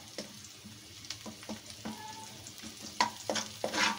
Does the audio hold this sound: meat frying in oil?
yes